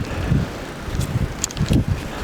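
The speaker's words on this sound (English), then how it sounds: "And the wind isn't that bad." Blustery wind during the 2013 Nemo blizzard rumbles against the microphone in uneven low gusts that rise and fall, fairly close, with no speech.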